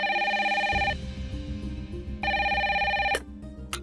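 A landline telephone rings in two bursts of electronic trilling, loud and close, with a quiet pause between rings.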